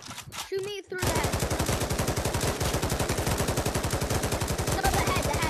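Rapid automatic gunfire rattles in steady, evenly spaced bursts in the VR shooter Pavlov Shack, loud and close, preceded by a brief voice at the start.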